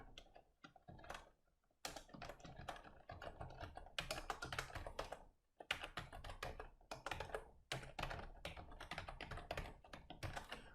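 Continuous typing on a computer keyboard while entering VBA code, with rapid close-up key clicks in bursts and a short pause midway, no voices.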